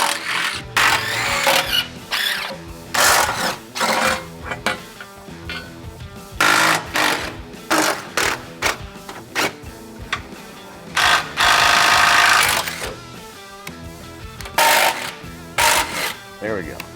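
A power tool loosening the bolts of a Jeep JK factory gas tank skid, rattling in repeated loud close bursts with short pauses between them.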